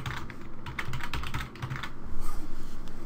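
Fingers tap out a root password on a computer keyboard during a MySQL install on Windows Server, a steady run of quick, close keystroke clicks with brief pauses and no talking.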